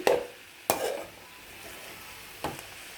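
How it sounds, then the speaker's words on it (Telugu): A spoon scrapes and clatters against a pan while a cabbage and chana dal masala mixture is stirred, with three distinct knocks over a soft sizzling background. "ఇలా నీట్గా అది మొత్తం కలిసేటట్టుగా కలబెట్టేసుకోవాలండి"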